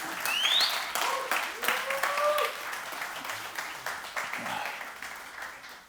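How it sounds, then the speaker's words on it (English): Audience applause for mothers standing during a Mother's Day church sermon, a broad steady clapping that fades gradually, with whoops and voices mixed in from the crowd. "let's give them a round of applause for..."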